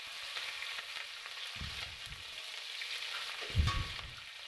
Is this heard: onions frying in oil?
yes